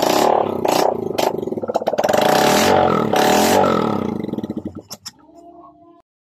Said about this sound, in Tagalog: para marinig nyo na ang tunog ng kanyang makina